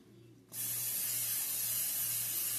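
Great Value butter flavor cooking spray is sprayed into a cake pan in one loud, steady hiss that starts suddenly after a brief quiet moment and runs continuously to the end.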